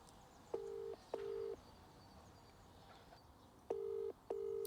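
Steady electronic telephone tones come in four separate bursts, two early and two late, each lasting about half a second, clear and alone over quiet room background.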